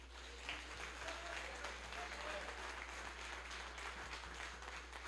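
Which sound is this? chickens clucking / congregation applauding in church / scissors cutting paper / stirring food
congregation applauding in church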